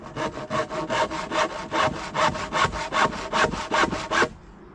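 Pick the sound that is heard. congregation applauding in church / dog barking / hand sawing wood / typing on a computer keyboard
hand sawing wood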